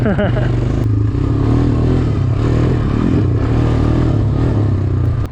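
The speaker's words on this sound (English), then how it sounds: "Pair that with the Honda's bulletproof 229cc air-cooled engine" Honda Recon 250 ATV with its 229cc air-cooled engine riding a rough trail, a loud close steady engine rumble with rattling and clatter throughout, someone's voice briefly audible over it.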